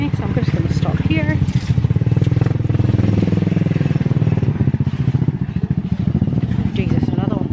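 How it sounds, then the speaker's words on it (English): A motorbike on Malapascua island rumbles close behind a talking voice, its engine noise rising and holding loud for several seconds as it passes. "There is a bike behind me, so I'm just going to stop here."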